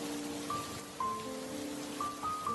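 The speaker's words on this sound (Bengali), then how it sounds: "ঝড় বৃষ্টিও ততই বাড়তে থাকে" Cartoon storm rain on a rainy village night, a steady dense hiss of falling rain that stays level throughout, with faint sustained musical tones drifting over it.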